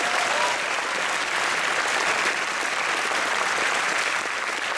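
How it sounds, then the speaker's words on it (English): Dense, even audience applause at a film festival world premiere screening holds steadily and loudly from start to finish, with no voices standing out. "let's give a round of applause for this genre hero right here, Colin Gaines."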